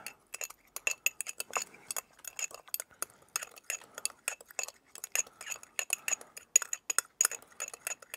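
A spoon clinks rapidly and repeatedly against a bowl while a fish sauce dressing with rice vinegar and light muscovado sugar is stirred, bright close metallic taps in an uneven rhythm with no talking.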